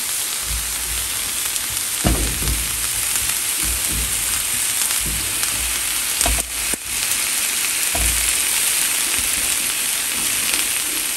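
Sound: tomatoes roasting and sizzling on a comal

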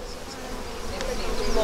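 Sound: honeybees buzzing in a hive mating nuc

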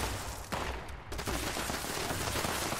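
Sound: nuka grenade explosions in the video game Fallout 76

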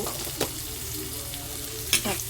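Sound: tomatoes frying in oil for coconut curry

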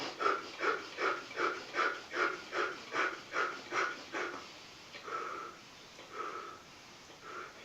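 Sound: quick inhales through nose, fast exhales through mouth

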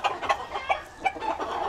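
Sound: Clemen rooster clucking

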